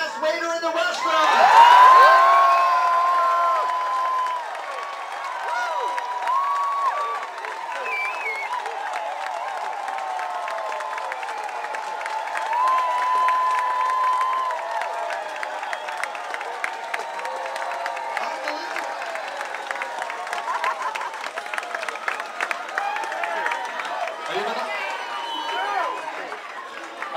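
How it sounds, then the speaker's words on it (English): A cruise ship dining room crowd applauds and cheers for the waiters, with loud clapping, whoops and shouts that swell early, then settle into sustained applause and chatter under a voice. "you can give them a cheer if you want, but by a round of applause"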